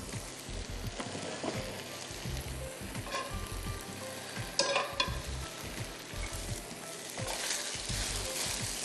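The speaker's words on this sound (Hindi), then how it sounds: "यहाँ मैं शाताज कुकिंग ऑयल ले लेती हूँ और हमें करना है फ्राई द पीनट्स, मूंगफलियाँ" Peanuts fry in hot cooking oil with a constant nearby sizzle and bubbling, over which low knocks and scrapes of stirring recur throughout.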